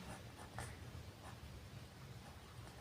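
A pen or marker writing on a board or paper during a class 10 maths lesson on real numbers: faint, steady scratchy strokes with a few sharper taps over a hissy room background.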